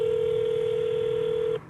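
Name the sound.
telephone call being placed to a phone number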